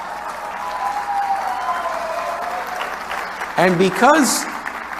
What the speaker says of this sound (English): You can clap now if you want.